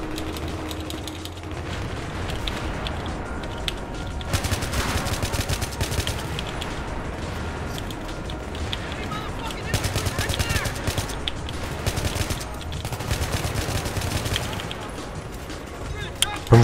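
AN-94 rifle fire in a video game, rapid bursts of shots ripping out repeatedly across the whole stretch, loud and close, with clattering mechanical clicks between volleys and a voice talking underneath.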